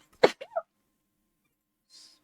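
A single sharp sneeze bursts out near the mic during a Minecraft stream, followed by a short nasal sniff or exhale, then a brief hiss about two seconds later in an otherwise quiet room.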